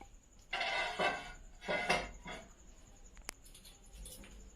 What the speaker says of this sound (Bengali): এটা আমাদের বটিটাকে রেখে দিচ্ছি।